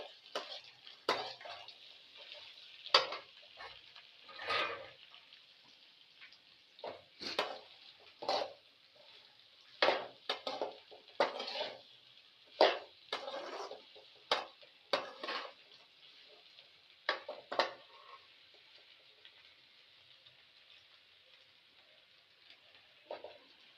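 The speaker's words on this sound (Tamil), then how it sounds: "இப்போ நல்லா வதக்கி விட்டுக்கலாம்." Fresh okra is stir-fried in a pan for a South Indian poriyal. A soft, even frying hiss continues under repeated spatula scrapes and clacks against the pan, close and fairly quiet, with no voices.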